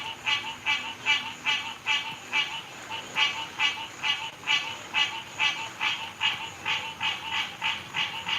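A frog croaks in a fast, rhythmic series of rasping pulses from close by behind a couch indoors, steady and loud throughout with no talking.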